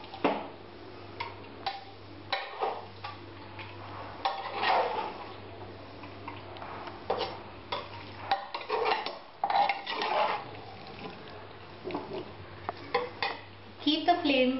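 Mutton pieces being stirred and mixed with an onion, garlic and ginger paste in a pot for Bengali mutton kasha, giving repeated close scraping and clinking of a spoon against the vessel, with a steady low hum beneath.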